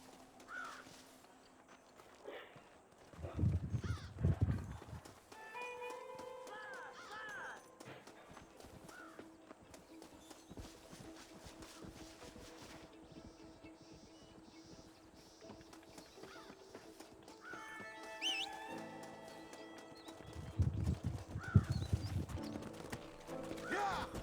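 Horses in the Red Dead Redemption video game, hooves clip-clopping in short bursts with an occasional whinny, set against quiet ambient game sound, with faint voices at times.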